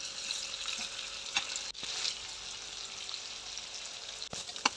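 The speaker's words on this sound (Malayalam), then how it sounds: "ചിക്കൻ അങ്ങോട്ട് വെച്ച് നല്ലോണം ഒന്ന് ഷാലോ ഫ്രൈ ചെയ്തെടുക്കാം" Chicken pieces shallow frying in oil for a simple chicken curry, a soft continuous sizzle with occasional light clicks and pops, fairly quiet and without speech.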